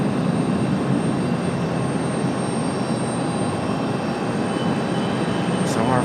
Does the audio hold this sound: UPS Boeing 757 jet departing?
yes